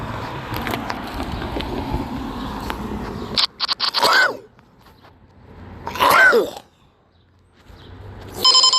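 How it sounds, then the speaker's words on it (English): Several loud, sharp sneezes, about three, burst out close by after a stretch of rustling and scraping noise. "Who sneezes in July?"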